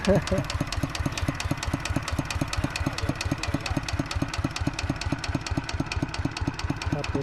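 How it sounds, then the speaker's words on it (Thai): A tractor engine chugs steadily nearby while plowing a rice paddy, a loud, rhythmic diesel thumping that holds the same even pace throughout. "ก็จะเอารถไถไงล่ะครับไถ"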